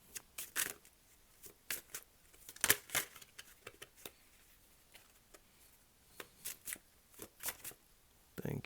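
A deck of tarot cards being shuffled by hand in a quiet room, with irregular bursts of crisp riffling and snapping card sounds separated by short pauses.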